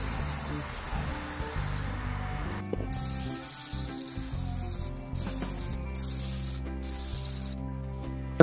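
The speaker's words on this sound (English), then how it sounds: "I like to spray on some more oil over the top to help it brown." Cooking oil sprayed over coated tofu pieces on baking trays before oven-baking: a soft hissing spray sounds in several short bursts over a steady background, with brief gaps between sprays and no talk.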